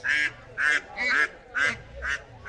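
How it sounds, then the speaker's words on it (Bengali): Domestic ducks quack close by at a market, six loud nasal calls in a steady, evenly spaced rhythm with brief pauses between them. "এখন আছে বেশ সুন্দর সুন্দর পাতি হাঁস"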